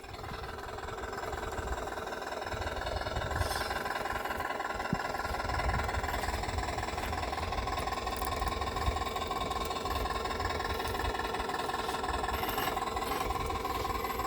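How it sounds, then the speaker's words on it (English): RC crawler with dual brushless motors playing a simulated diesel engine sound, a steady faint idling rumble with a brief throttle blip, heard alone and at a distance. "I blipped it there just because I want to hear some diesel go"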